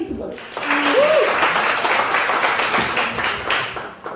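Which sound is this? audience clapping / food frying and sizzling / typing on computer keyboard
audience clapping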